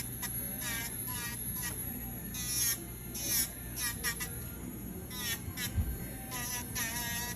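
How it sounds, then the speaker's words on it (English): A small Dremel electric nail file buzzes in short, repeated bursts while smoothing rough toenail edges, starting and stopping in an irregular rhythm at close range under a quiet room hum. "This is called a Dremel, or a little electric file."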